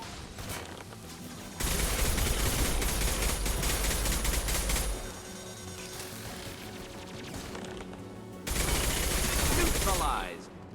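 Long, dense bursts of heavy automatic gunfire rattle through a Mass Effect firefight, loud and sustained across two extended volleys with a quieter stretch of battle noise between them. No one speaks.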